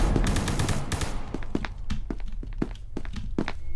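Loud video-game gunfire fills the scene: a dense burst at first, then a string of separate sharp shots and thuddy impacts at uneven intervals, fairly close.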